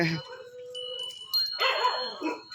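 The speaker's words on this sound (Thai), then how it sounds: "ได้ยินแต่เสียงเห่านะ เสียงคนไม่เห็นเลย" A dog barks and howls in a quiet setting, with sharp bursts and a drawn-out wail, while a person talks over part of it.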